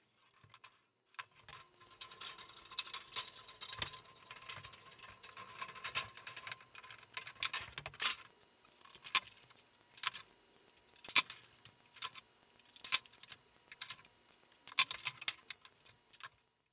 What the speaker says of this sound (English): Here I am cutting the copper trim pieces that will wrap around on the skirting and hide the nail holes.